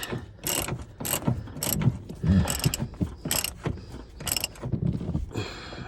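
A ratchet with a 15 mm socket tightens a rear strut bolt on a 2000-2005 Mitsubishi Eclipse convertible, giving close, crisp bursts of rapid clicking in repeated strokes with small metallic clanks between.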